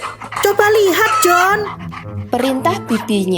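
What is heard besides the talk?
puppies panting and barking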